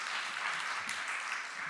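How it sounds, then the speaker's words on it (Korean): A church congregation claps together in steady, dense applause, moderately loud and even throughout, with no voices over it. "다시 한번 우리 또 기쁨의 박수 한번 쳐드릴까요?"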